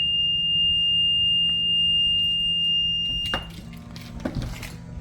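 An Acura MDX power tailgate sounds a steady high-pitched electronic warning tone continuously, then it stops as mechanical clunks and rattling follow.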